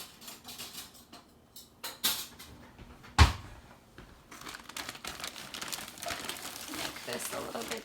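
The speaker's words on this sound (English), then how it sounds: "I'm going to grab a spoon from my drawer." A kitchen drawer is pulled open to take out a spoon while baking cookies: a soft slide and a brief sharp clatter, close by, among quiet rustling and light handling noises, with a person talking faintly in the background.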